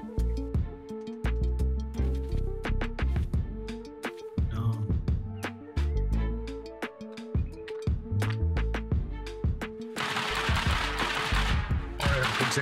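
Gunfire in Rust, a long run of sharp, rapid shots cracking in dense bursts with brief gaps, loud and close, ending in a harsher noisy stretch.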